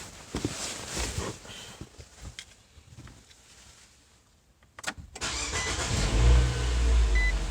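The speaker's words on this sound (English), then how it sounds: "Let's see if the car starts" A car engine cranks on a newly replaced starter and catches, then settles into a loud, rumbling idle, close by after a quieter stretch of clatter.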